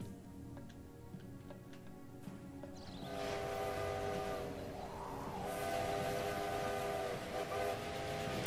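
Train rolling along in the railway strategy game Railway Empire, set in Japan, with steady rumbling rail noise, a ticking clatter early on, and a louder sustained horn-like whistle tone swelling from about three seconds onward.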